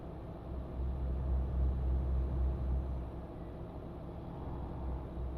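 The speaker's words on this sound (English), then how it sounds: "This engine is making not very nice noises right now." A low, steady truck engine rumble from the video game Euro Truck Simulator 2 drones on at moderate volume, slightly uneven, with no voices.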